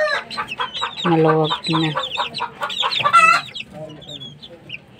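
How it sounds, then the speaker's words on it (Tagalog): Fighting-breed roosters and chickens cluck and squawk in a chicken coop, close and busy, with several overlapping calls; someone speaks briefly among them. "So, dito na sila sa manukan."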